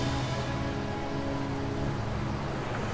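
Driving rain on a twisting highway, a dense continuous hiss of heavy rainfall at steady loudness throughout, with no voices.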